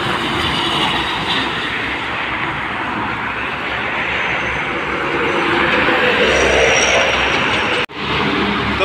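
An ALS intercity bus from Medan cruising along the Merak-Jakarta toll road, its loud, steady engine and road roar sustained throughout before cutting off abruptly near the end.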